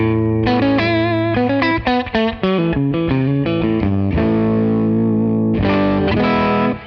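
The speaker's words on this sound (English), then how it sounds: "I picked up the guitar and started playing, and it sounded really strange" An SG-style guitar plays a quick run of notes and chords with a gritty, distorted tone, loud and close, with no talking.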